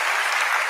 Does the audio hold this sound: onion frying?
no